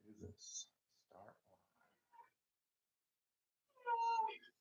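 A cat meows close by in a quiet room, two short calls with a louder drawn-out meow at the end, mixed with brief bits of talk.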